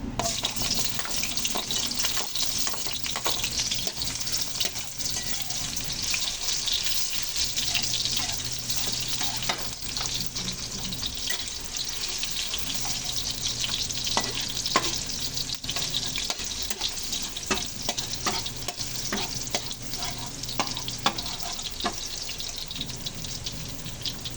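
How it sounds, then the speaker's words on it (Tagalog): Garlic sautéing in oil in a pan for igado, a continuous loud sizzle with repeated spatula scrapes and clinks, close and steady with no talking. "So, umpisa na natin mag-gisa. Umpisa natin sa bawang."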